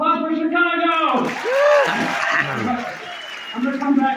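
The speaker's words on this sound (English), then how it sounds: "everyone clap for Chicago!" An audience at a live show in Montevideo, Uruguay claps for a volunteer called up on stage, the applause mixing with loud excited voices and a whoop while people keep talking over it.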